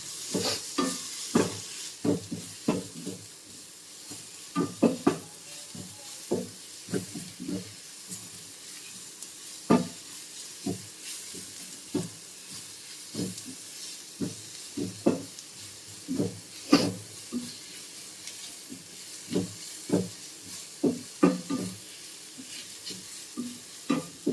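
Clams for a Kerala toddy-shop style kakka fry frying in a pan with garam masala, stirred repeatedly: a low sizzle under regular scraping and clacking strokes of a spoon against the pan, no talk.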